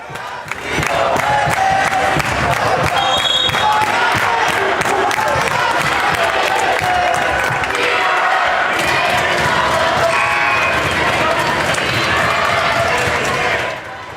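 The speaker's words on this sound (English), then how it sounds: "These fans are loving it, chanting back and forth at each other, trying to see who has the loudest cheers and the most invested fans." Loud student crowds at a Holy Cross versus Frontenac senior boys high school basketball game, chanting back and forth across the gym in continuous rhythmic roars with shouts, sneaker squeaks and ball noise mixed in.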